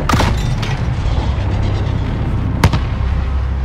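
A flare fired from a roof launcher in Call of Duty Modern Warfare, a loud booming launch at the start and a second sharp report later over a heavy, constant rumble of battle.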